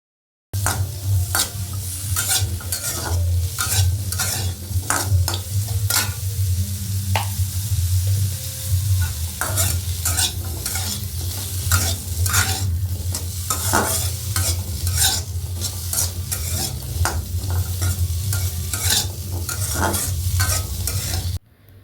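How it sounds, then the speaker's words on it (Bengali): Vegetables frying in butter with whole cumin in a wok, sizzling loudly and continuously up close while a spatula stirs and scrapes the pan in frequent sharp strokes throughout. "আমি এখন সবজিটা দিয়ে দিলাম, দিয়ে সবজিটাকেও ভালো করে একটু ভাজা ভাজা করে নেব"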